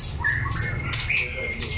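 A white-rumped shama (chòe lửa) sings close by, with quick bright whistled notes and chirps repeating over a low background rumble.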